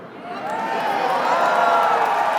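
A large crowd at a Canadian political rally held by Prime Minister Carney cheers in a loud, sustained roar that swells and holds steady throughout.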